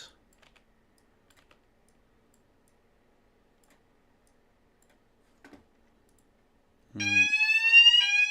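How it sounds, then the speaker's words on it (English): A fire alarm test rings out loud and sustained, starting abruptly near the end after a long near-silent stretch with a few faint clicks. "They do a fire alarm test."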